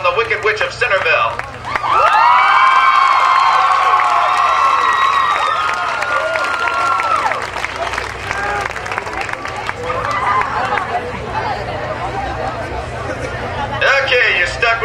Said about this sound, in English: A big round of applause for her and her court